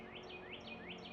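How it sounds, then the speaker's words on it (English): Small garden birds chirp in a repeating pattern, three rising whistled calls spaced evenly over a steady low hum, moderately distant and fairly faint. "the strawberries from all these birds that y'all hear, all these birds,"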